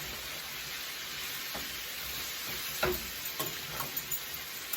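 Mild Italian sausage fries in a pan with a soft, steady sizzle, interrupted by a few light taps and scrapes of a utensil near the end.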